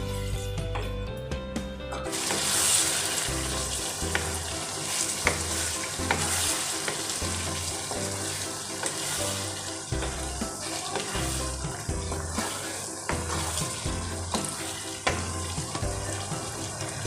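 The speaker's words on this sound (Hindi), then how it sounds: "और 8 मिनट के लिए इसको भूनें।" Lauki daal of bottle gourd and lentils fries and is stirred in a pan, with continuous close sizzling and repeated scraping stirs throughout, loud and alone without talk.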